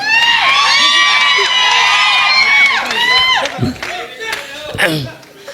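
Cheering crowd at a film success celebration for a blockbuster Telugu love story: a loud, sustained wash of shouts and whoops with scattered clapping, then fading into a noisier, thinning crowd murmur.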